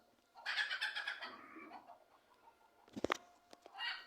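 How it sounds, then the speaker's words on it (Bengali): Chickens cluck in a courtyard, a burst of close clucking followed by a few sharp, louder squawks and calls, with no talking. "এখন আমি আমার দুষ্ট মুরগিগুলোকে ছেড়ে দিলাম। মুরগিগুলো অনেক উৎপাত করে সকালবেলা।"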